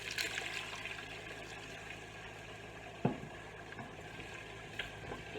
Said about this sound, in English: And I'm going to add a little bit of water.